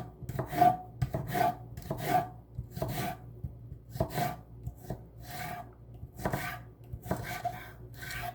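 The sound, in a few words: knife slicing an onion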